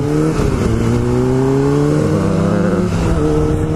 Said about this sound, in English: CBR 600RR. Fucking love this bike.